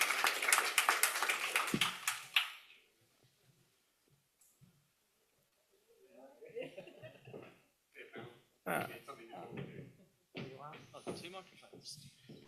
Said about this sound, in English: Please give the panelists a big round of applause.